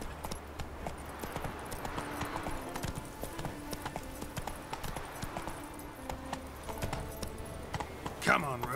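Horse hooves clip-clop in a steady trotting rhythm in the video game The Witcher 3, moderately close, with a brief rider's voice and a sharp rising sound near the end.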